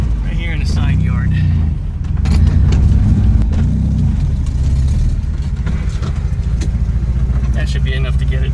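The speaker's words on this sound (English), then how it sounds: "We're just gonna pull right in here and we're gonna make our skid marks right here in the side yard." A Volkswagen car pulls off onto a dirt side yard to lay down skid marks, its engine running steadily and loud throughout with a low rumble and some rough surface noise.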